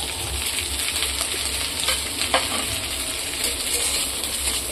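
Onions and capsicum frying in a pan give a dense, continuous sizzle with a few stirring scrapes and light clicks, close and even throughout, with no talking.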